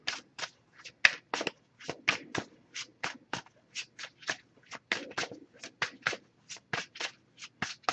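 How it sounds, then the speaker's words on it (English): An oracle card deck being shuffled by hand gives a quick run of crisp, riffling card flicks in a steady rhythm, close and fairly quiet with no talking. "Just going to pull a single card from this deck."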